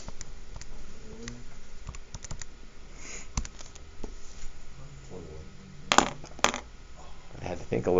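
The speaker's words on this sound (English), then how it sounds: "So I'm just going to type it in here." Fingers tapping keys on a calculator in a steady scatter of small plastic clicks over a faint room hum, with a couple of sharper louder taps near the end and quiet voices briefly in the background.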